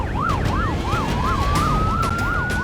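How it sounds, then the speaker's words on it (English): A paramedic's ambulance siren wails loudly and close in a rapid up-and-down yelp pattern, over the steady road rumble of the vehicle racing under lights and sirens. "Intensive care paramedic Cullen is racing lights and sirens to a 38-year-old who's having a massive heart attack."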